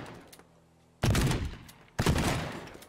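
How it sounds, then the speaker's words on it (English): Two loud, close shotgun blasts about a second apart in Teardown, each a sharp boom with a decaying tail, fired against quiet background sound. "Can we actually just pop it open with a shotgun?"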